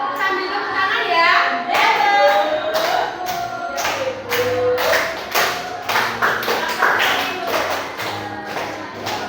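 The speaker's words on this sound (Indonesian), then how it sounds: "Yo, sambil tepuk tangan ya." Children clap their hands in rhythm along to a song in a classroom, a steady run of sharp claps under sung and spoken voices throughout.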